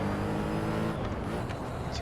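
Porsche 917K race car engine in the Assetto Corsa racing game, a loud continuous engine roar held in a long gear, with no one talking.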